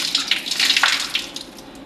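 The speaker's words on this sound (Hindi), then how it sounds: "और सीधे हाथ से फिर बाजू पर पानी डालें।" Tap water splashes over a forearm while it is washed during Shia wudu, a close, steady gushing and spattering that continues without speech, with a few louder splashes before it thins out.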